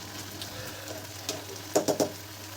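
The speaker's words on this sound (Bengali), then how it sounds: "তরকারিটা একটু ভালো করে নাড়িয়ে দেব।" Jhinga and potato curry stirred in a pan, with soft sizzling under three quick scraping strokes of a spoon near the end, close and fairly quiet.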